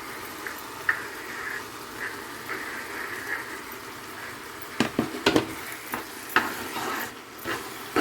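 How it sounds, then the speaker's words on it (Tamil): Boiled toor dal is stirred into a basella curry in a pot, a soft wet sizzle broken by clustered scraping and clinking strokes of a spoon against the pan, no talk. "நல்லா கலந்து விட வேணும்"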